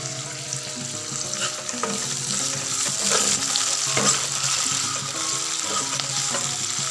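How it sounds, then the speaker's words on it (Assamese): Spice paste (masala) frying with onions in a pan gives a continuous close sizzle, with scraping stirring strokes throughout and no talking. "ভাজি ল'ম মছলাখিনি ভালদৰে।"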